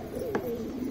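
A single soft coo from one of a large flock of gola pigeons kept for sale, brief and close over a low steady background hum.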